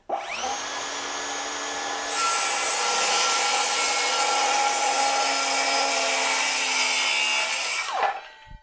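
A Bosch GKS18V-68GC cordless circular saw spins up and cuts steadily through 20 mm multiplex plywood with a loud, sustained whine for several seconds, then winds down abruptly.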